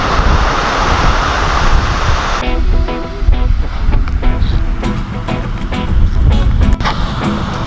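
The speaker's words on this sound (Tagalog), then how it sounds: "ito malalaking alon grabe" Loud, rushing ocean surf with heavy wind buffeting the microphone, large waves roaring continuously close by against stone barriers.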